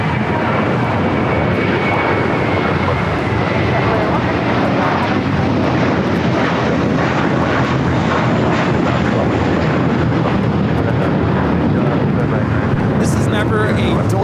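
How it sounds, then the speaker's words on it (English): A JetBlue Airbus A321 airliner takes off from LAX bound for Fort Lauderdale, its engines a loud, steady roar that holds for the whole stretch, with a voice talking over it. "taking off to Fort Lauderdale, JetBlue Flight 100 on the A321"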